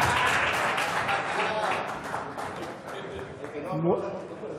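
An audience claps to welcome a speaker at a lecture on maize in Mexico, a dense burst of applause that fades over a few seconds while a voice talks over it.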